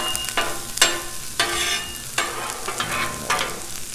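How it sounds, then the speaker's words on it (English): Onions fry on a Blackstone griddle while a metal spatula chops and scrapes them, giving repeated sharp clanks at an uneven rhythm over a steady sizzle, close up with no voices. "Gonna need to kind of do a little chopping, break up these onions a little bit."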